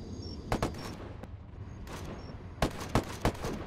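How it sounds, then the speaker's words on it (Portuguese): Gunfire in the video game Ghost Recon Wildlands: two quick clusters of sharp shots, then a heavier rapid burst of three or four loud cracks near the end, over a constant low battlefield rumble. "Sofrendo muitos disparos."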